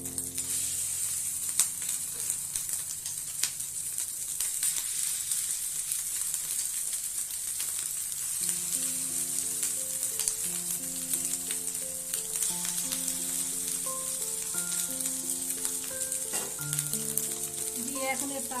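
A rice and egg batter for chitoi pitha crackles in a hot oiled pitha mould, a continuous close sizzle that runs throughout, with faint background music underneath and no clear talk.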